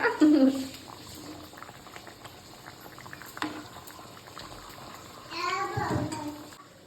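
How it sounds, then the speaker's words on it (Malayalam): Fish head curry bubbles in an open pot, a soft continuous simmer with occasional pops, while a voice speaks briefly at the start and again near the end. "കുറച്ചേരം നമുക്ക് മൂടി തുറന്ന് വെച്ചിട്ട് തിളപ്പിക്കാം"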